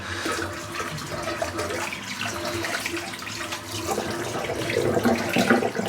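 Steady running water splashing into a sink, a continuous broadband rush that swells slightly louder toward the end, with no voices.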